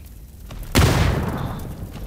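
A grenade explodes in a battle royale shooter: a sudden, sharp, close blast after a quiet moment, followed by a rumbling, debris-filled decay lasting over a second.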